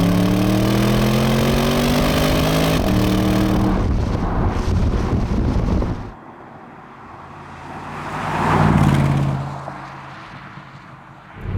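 A Porsche Panamera Turbo S E-Hybrid with 700 horsepower accelerates hard, its engine note climbing through the gears before dropping away; a loud whooshing pass swells and fades near the end.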